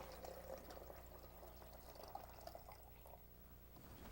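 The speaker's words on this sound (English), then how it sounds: "pour our water in the back" Water poured into the reservoir at the back of a drip coffee maker, a soft, steady splashing trickle with a few brief louder spatters, heard close and alone.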